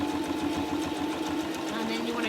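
Sewing machine stitching over a pinched seam on a small fabric headphone storage pouch, a steady close mechanical whir running throughout the short clip with no break.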